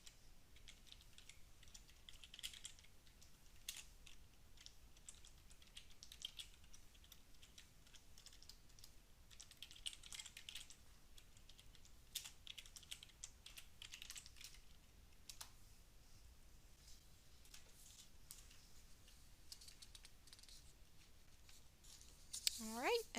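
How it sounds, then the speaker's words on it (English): Computer keys are tapped in quiet, irregular bursts while a command is entered for a password-cracking demo, faint and close with light background hiss throughout. "we can go ahead and type the command"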